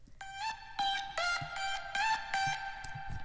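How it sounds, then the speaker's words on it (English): A paid reverb plugin in Logic X washes over a repeated plucked synth tone, about six rhythmic hits with long shimmering tails that blur into one another, close and fairly quiet with no voices. "And that reverb sounds like this."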